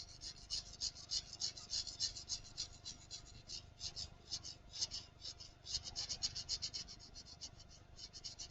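Graphite pencil rapidly shading a sphere drawing on paper, a quick continuous back-and-forth scratching stroke after stroke, close up and soft with no talking.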